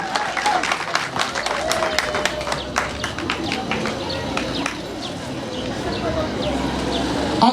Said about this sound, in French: j'aimerais demander un tonnerre d'applaudissements pour le président, directeur général des États de Wema Production